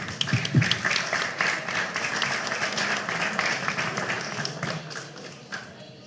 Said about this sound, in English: I would like to give a big round of applause.